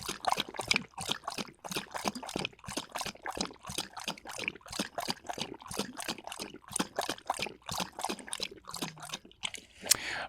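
A continuous trickle of water, with rapid irregular splashing and dribbling, runs close and steady for several seconds, ending with a sharper clink, and no one speaks.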